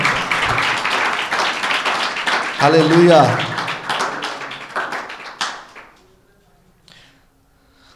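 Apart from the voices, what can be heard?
congregation clapping hands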